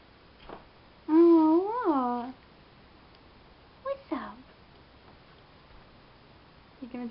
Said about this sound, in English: He does these really pathetic little meows.